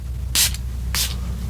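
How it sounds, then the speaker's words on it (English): Two quick hissing puffs from a fragrance atomizer, close and crisp, about half a second apart, each a short burst of spray over a quiet low hum. "I didn't mean to spray right there."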